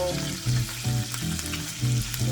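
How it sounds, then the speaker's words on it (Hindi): Pieces of mutton sizzle and fry in butter in a pan for Bukhari rice, a steady close crackle with periodic louder bursts as the meat is stirred, no voices. "just nicely saute them in the butter"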